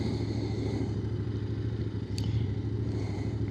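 A Royal Enfield Continental GT motorcycle rumbles steadily while being ridden, a continuous low engine drone mixed with wind noise and no talking.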